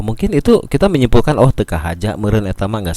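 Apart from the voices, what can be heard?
No distinct noise like a dog, phone or traffic.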